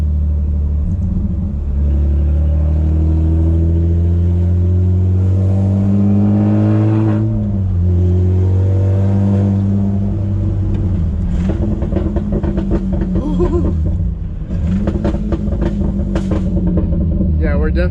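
A manual-swapped Infiniti G35 drives along with a deep, loud engine rumble that rises and falls through gear changes, an incomplete exhaust giving it a raw tone, while people talk excitedly inside the car.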